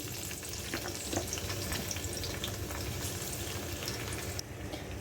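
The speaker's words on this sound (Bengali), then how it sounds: "কড়াইতে সয়াবিন তেল খুব ভালো মতো গরম করে নিয়ে এর মধ্যে দিয়ে দিব ম্যারিনেট করা হাঁসের মাংসগুলি" Marinated duck meat fries in hot soybean oil in a wok with a continuous, dense crackling sizzle and faint stirring, heard alone at low volume.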